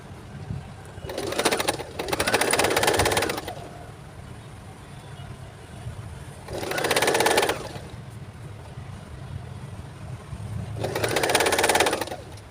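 A sewing machine stitches a newborn baby cap in three separate bursts of rapid whirring, each one to two seconds long, with quiet pauses and faint background sounds between them.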